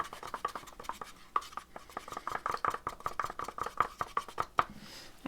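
Craft paints of assorted brands are stirred in small containers, giving a quick run of close, sharp tapping and scraping clicks in an irregular rhythm with no voice.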